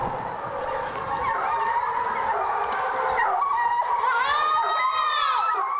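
A pack of hunting hounds bays during a roe deer hunt, a loud and continuous chorus of overlapping howls and yelps close by. Drawn-out, wavering cries rise above the pack toward the end.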